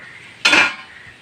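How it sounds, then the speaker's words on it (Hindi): Dishes, pots and pans being washed give a single bright metallic clatter, one short close clang that quickly fades out. "चलिए बर्तन धो लीजिए सटासट फटाफट"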